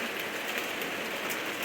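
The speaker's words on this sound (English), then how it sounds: "right now it's pouring rain" Pouring rain makes a dense, steady hiss that stays even and unbroken for the whole stretch, with no voices over it.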